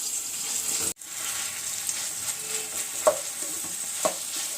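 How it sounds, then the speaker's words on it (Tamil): Raw plantain sautés in a hot pan, a steady close sizzle broken by a brief dropout and a couple of sharp spatula scrapes against the metal, with no voices. "வாழைக்காய் போட்டு கொஞ்ச நேரம் வதக்கிட்டு"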